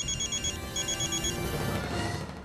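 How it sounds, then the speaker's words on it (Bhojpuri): A phone rings in a repeating electronic pattern, two bursts with a short gap, over a steady low background rumble. "निखिल, तू हमके ई वक्त फोन काहे कैला?"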